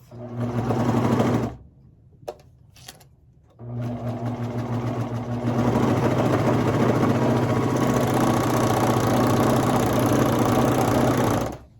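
A sewing machine stitches baby leggings fabric in loud, close, steady runs, stopping briefly near the start and then running continuously to the end.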